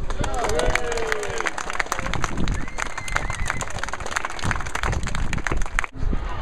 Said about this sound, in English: I think UCU should give itself a big round of applause.